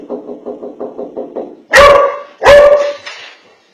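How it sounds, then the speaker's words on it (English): A homeowner's dog barking at a burglar: a quick run of small, evenly spaced yips, then two loud, sharp barks close to the doorbell camera, with no talking. "the homeowner's dog tried to follow him out."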